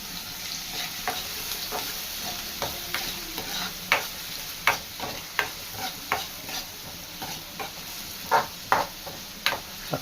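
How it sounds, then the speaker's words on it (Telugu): Onions fry in a pan while a spoon stirs them, a continuous sizzle punctuated by a rhythmic series of crisp scraping taps, close up and free of speech. "చక్కగా దోరగా గోల్డ్ కలర్ వచ్చేదాకా అవి వేయించుకోవాలండి"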